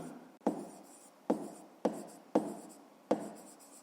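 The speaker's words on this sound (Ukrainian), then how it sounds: "Так і пишемо подолали." Pen writing on paper during a maths exercise, with five short, crisp scratching strokes, each starting sharply and fading, close and quiet with no talk.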